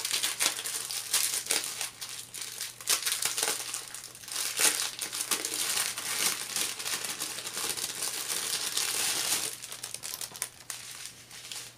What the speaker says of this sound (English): Incoming crinkle.